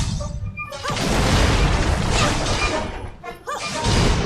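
Cannon fire in Ni No Kuni 2 erupts as loud, dense booming blasts that fill most of the stretch, with a short lull before another heavy burst.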